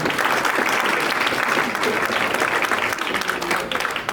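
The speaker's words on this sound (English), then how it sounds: "And so I'd like you to give him a round of applause." Steady, dense applause from a crowd filling a room at a soul food brunch held at DuPage African Methodist Episcopal church, continuing evenly throughout.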